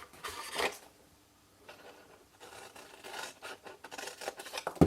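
Scissors cut through foiled card for a lidded box, giving close, quiet snips in short bursts separated by pauses.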